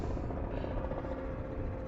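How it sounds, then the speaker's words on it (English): A helicopter passes near Heathrow Airport, its steady low rotor drone and engine rumble filling the whole stretch at moderate, constant loudness with no voices. "I can hear in the background a helicopter."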